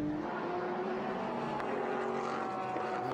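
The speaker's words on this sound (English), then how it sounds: "Porsche really gets out of that stadium section, that exit of turn 15." A Porsche GT race car accelerating out of a tight corner at Circuit of the Americas, a steady droning engine roar that holds constant and fairly loud throughout, with no talking.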